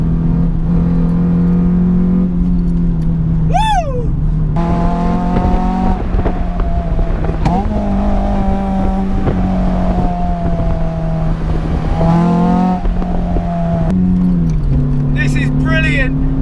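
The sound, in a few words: high-revving car engine accelerating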